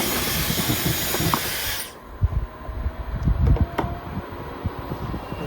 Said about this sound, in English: I'm going to get my hairdryer and start to, like, you know, kick up a lot of dust around the room